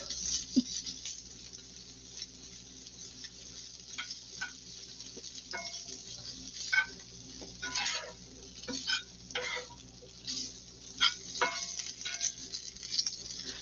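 Spam stirred around in bacon grease in a frying pan, with scraping and stirring taps over a low continuous sizzle, close by and moderately quiet, no talking.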